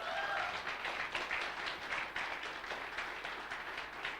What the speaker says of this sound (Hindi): सब लोग आप खड़े हो जाइए और जोर से तालियां